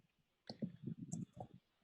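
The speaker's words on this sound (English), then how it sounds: "somebody's typing very loud" Someone types loudly on a keyboard on an online group call. A dense, faint cluster of rapid key clicks lasts just over a second.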